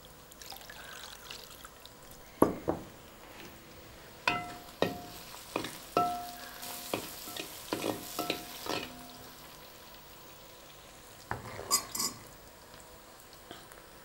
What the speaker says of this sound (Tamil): அரைச்சி அப்படியே இந்த புளி கரைச்சி வச்சுருக்கோம்ல அதில் கலக்கிடணும்.